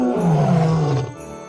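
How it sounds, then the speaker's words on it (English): A tiger gives a single loud, deep roar lasting about a second, close and alone, trailing off into a lower rumble. "Tiger,"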